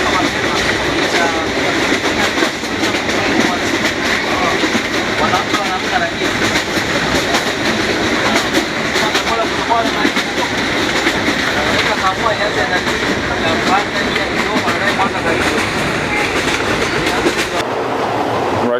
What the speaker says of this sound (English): Right now I'm sitting in the coupe of the second sleeper class in the train which goes from Dar es Salaam to Mwanza.